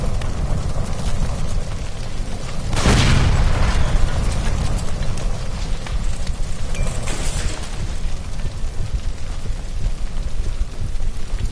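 A gas line explodes in L.A. Noire with a sudden loud, deep boom that rolls into a long crackling roar, like debris and flames hissing under constant rain-like noise.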